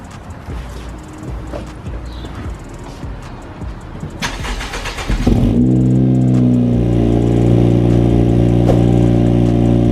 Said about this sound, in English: enjoy this cold start